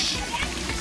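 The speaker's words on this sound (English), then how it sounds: "Splashing, splashing." Water splashing at a children's splash pad, a steady broad spray and patter heard up close under a voice.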